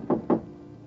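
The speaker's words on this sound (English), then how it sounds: "you rub your knuckles against a door marked 4" Two quick knuckle knocks land on a door, close and fairly soft, spaced about a fifth of a second apart, then quiet.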